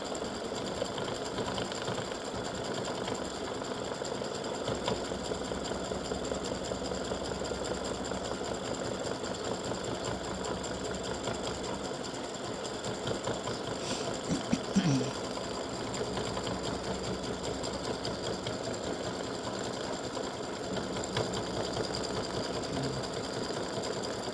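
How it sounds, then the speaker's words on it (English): An embroidery machine satin-stitches the edges of a freestanding lace Easter egg gnome, a steady rapid mechanical chatter running the whole time at moderate level, fairly close. "now it's getting ready to do the satin stitching around the edges"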